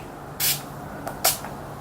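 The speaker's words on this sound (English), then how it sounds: "I'm just going to take a little bit of Urban Decay All Nighter setting spray to wet the brush." Urban Decay All Nighter setting spray misted onto a makeup brush: two short, crisp hissing spritzes about three-quarters of a second apart, close and clear, with no talking.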